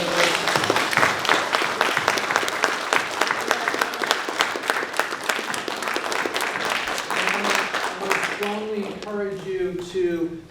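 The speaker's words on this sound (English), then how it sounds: "give a wonderful round of applause for all these amazing" An audience at a college poetry and fiction reading in Bedford applauds the readers in dense, steady clapping for several seconds, which thins out near the end as someone begins speaking.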